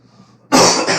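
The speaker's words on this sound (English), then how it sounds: "Coughing from all that walking." A cough bursts out abruptly halfway through, loud and close, in a single harsh rough blast after a quiet moment, while touring a Disney's Animal Kingdom Kidani Village villa after a lot of walking.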